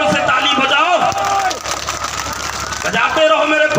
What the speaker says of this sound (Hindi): अरे बजाओ, जोर से ताली बजाओ